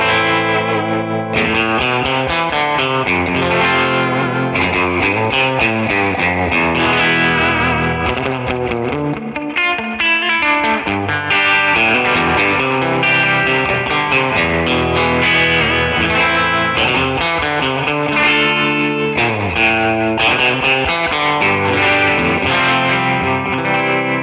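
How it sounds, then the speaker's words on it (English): An electric guitar plays a loud, continuous surf-style line drenched in reverb with a wavering tremolo pulse, live on a theatre stage. It has a slightly gritty edge and no voices. "So there's a reverb and a tremolo on, and it gives me that surfy sound I'm looking for"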